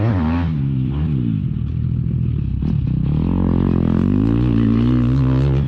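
A loud two-stroke motocross bike engine drops in pitch as it downshifts into second gear, then climbs back up into a steady, buzzing rev, close by and continuous.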